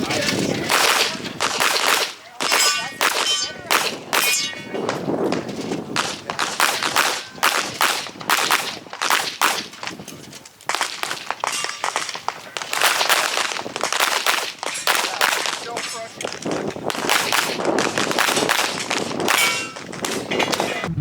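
Rapid bursts of gunfire mixed with metallic clangs from steel targets on a practical shooting match stage at the 2023 Area 3 Championship, sharp loud cracks coming in clusters throughout with brief pauses.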